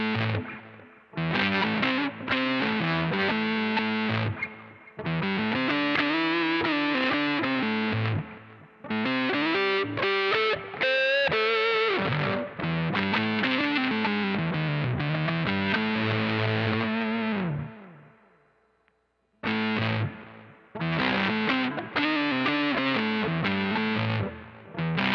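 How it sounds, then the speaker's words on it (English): Electric guitar through a Line 6 HX One sub-octave fuzz effect plays thick, distorted riffs and sustained notes with a deep octave-down layer, loud and close, with brief pauses between phrases. "Have a listen to this sub-octave fuzz and how great the tracking is on it."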